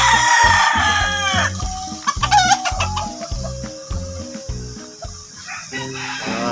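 A flock of fighting cocks clucks in a loud, rhythmic, pulsing chorus, with a crow rising near the start and more crowing mixed in, all close and with no talking.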